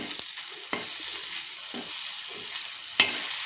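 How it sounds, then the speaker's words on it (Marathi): Garlic fries in a kadhai while preparing drumstick bhaji masala, a soft steady sizzle with a few sharp clicks of a spoon or spatula against the pan, quiet and close, no speech. "आता इथे थोडा लसूण फ्राय करते।"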